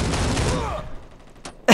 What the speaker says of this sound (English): None of that hip fire hit the man